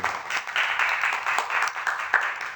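Audience at a union get-out-the-vote rally clapping, a short burst of moderate, slightly distant applause with scattered sharper claps, no speech over it.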